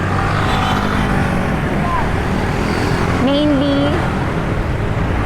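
Public utility jeepneys idle and rumble in dense evening street traffic on N. Domingo St., a steady close engine drone with a brief horn-like tone, while someone talks over it.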